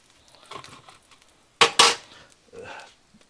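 Bacon being pried from a pan with utensils gives two sharp metallic clatters close together, followed by a softer scrape and clink, all close by with no talking.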